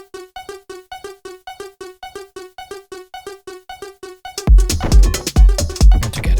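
Elektron Tonverk wavetable track runs a simple five-step sequence of short, bright, evenly spaced synth plucks, heard alone at first. Then a dense, louder mix with heavy drum hits crashes in over the final two seconds.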